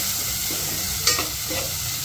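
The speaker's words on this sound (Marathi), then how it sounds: "कांदो मिरची सगळे घालून घेवपाचे हितून आणि करपील ते घालून बरे कांदो मातसो फ्राय करून घेवपाचो." Onion and chilli frying in hot oil for rava upma, a steady close sizzle broken by one brief scrape of stirring near the middle.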